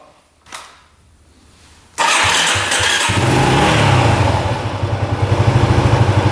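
A motorcycle engine cranks, catches and fires up, then settles into a loud, steady idle at about 1300 RPM with a rhythmic low pulse.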